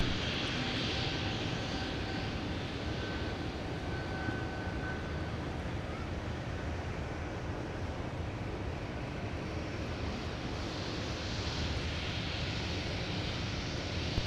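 Steady, continuous jet engine rumble from aircraft taxiing at Minneapolis–Saint Paul airport, a broad even roar with a faint whine rising and fading, heard at a distance without speech.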